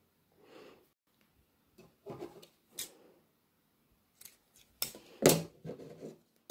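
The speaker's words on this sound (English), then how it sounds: "And then I'm going to snip it and tie it." Scissors snip thread for a craft sailboat in several separate close cuts, with one louder, sharper snip near the end and soft rustling between them.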